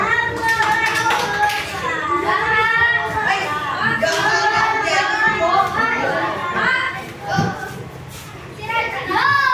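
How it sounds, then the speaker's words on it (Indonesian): Children in a classroom clap for a classmate, a scattered patter of hand claps mixed with lively chatter and young voices talking over each other, close by and steady throughout. "Tepuk tangan buat temannya."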